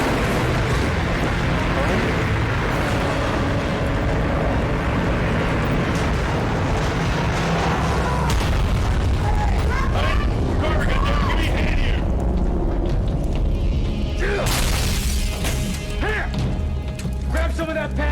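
Mines detonating against a ship in the game Dead Space 3, a dense roar of crashing, booming impacts and metallic debris that stays loud throughout, with voices talking over the chaos.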